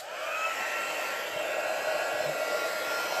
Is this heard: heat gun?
yes